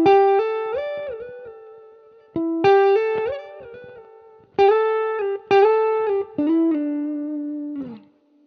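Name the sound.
electric guitar playing a melody with a clean tone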